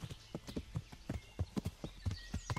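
Horse hooves clip-clopping in a steady, even rhythm as a rider travels down a path in Kingdom Come Deliverance, close and moderately loud, with no voices over it.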